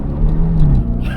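Dodge Durango Hellcat, a 2021 SUV, launching hard off the line, its engine a deep, steady rumble with a low drone that rises in pitch and then drops slightly near the end, loud and close.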